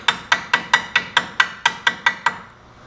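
Ten evenly spaced light metallic taps on a bolt in an ATV axle, close and sharp, each ringing briefly before the next, then a short trailing quiet.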